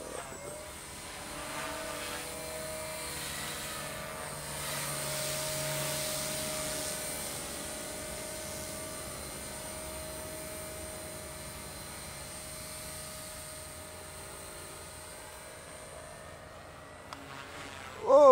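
Electric RC helicopter rotor spooling up in idle-up mode for a first attempt at 3D flying, a steady whine with a sustained tone that holds throughout at moderate, near level, then cuts out at the end.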